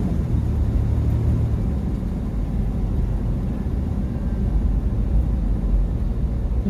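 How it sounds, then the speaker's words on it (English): Road traffic heard from inside a car, a steady low rumble of engine and tire noise that stays even and continuous throughout, with no talking. "This traffic is horrible."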